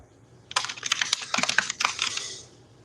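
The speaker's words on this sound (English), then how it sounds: "Someone is typing like a fiend" Rapid keystrokes on a computer keyboard rattle in quick uneven bursts for about two seconds, nearby and moderately quiet, with no voices over them.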